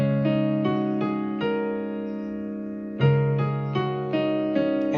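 Piano chords struck one after another, each ringing and fading before the next, a brief pause midway, played alone with no talking.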